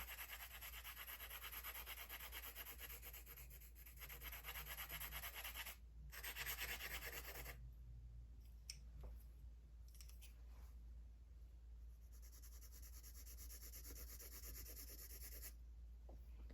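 Graphite pencil shading across paper, a steady soft scratchy rubbing that continues for most of the stretch with brief pauses as the pencil lifts, close and quiet.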